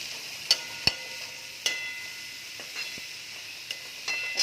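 Bell peppers with coriander stirred in a hot pan, a soft steady sizzle broken by a few sharp spoon clicks against the metal, close and unvoiced.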